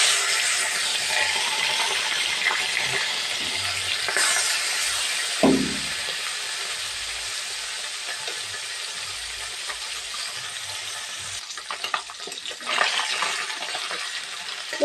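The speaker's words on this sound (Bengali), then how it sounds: "আর এখানে যে লবণ হলুদ দিয়ে আমি মাছটা মেখেছিলাম মাছটা দিয়ে দিচ্ছি ভাজার জন্য" Taki fish, coated in salt and turmeric, goes into hot oil in a wok, a steady crackling sizzle with a brief splash as it drops in and occasional utensil knocks.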